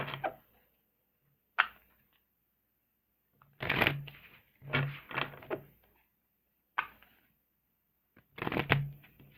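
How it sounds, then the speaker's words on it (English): Several short bursts of tarot cards being shuffled, riffling in quick papery clusters separated by pauses, fairly close and moderately quiet. "I shuffle the remaining cards"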